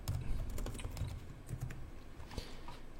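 Quick, light typing on a computer keyboard, close and quiet, with irregular bursts of keystrokes and no voices.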